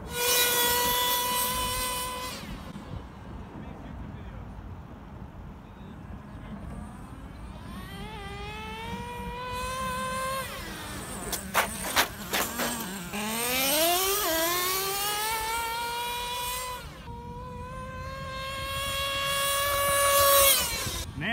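Traxxas T-Maxx nitro RC monster truck on a speed run in second gear: a buzzing high-revving small nitro engine climbs and falls in pitch through repeated accelerations, fairly close, with rattles in the middle and no voices.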